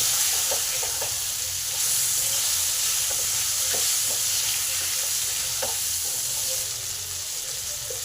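Potato pieces coated with salt and turmeric fry in a pan, giving a continuous close sizzle with small pops and scraping clicks scattered through. No voice is heard.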